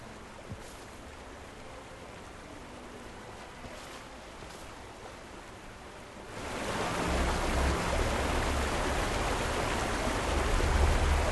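A waterfall in the Brisban Wildlands of Guild Wars 2 swells from a faint background wash to a loud, dense rushing roar about halfway through, then keeps pouring steadily.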